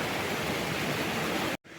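Waterfall on a river roars as a steady, dense rush of water, close and loud, then cuts off abruptly near the end.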